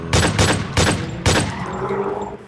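Four loud gunshots in The Crafting Dead, a Minecraft zombie survival mod, fire in an uneven close-range sequence, two quick shots, a pause, then two more, with a faint tail afterward.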